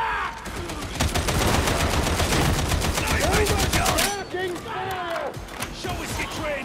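Rapid automatic gunfire in Warhammer 40,000: Darktide pounds in dense, loud bursts for several seconds, then gives way to scattered shots, with voices shouting over the battle.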